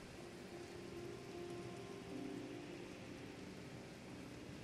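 Steady rain falls in the video game Jurassic World Evolution, a dense, even hiss of drops with a faint low rumble beneath, continuous and unbroken throughout with no voices.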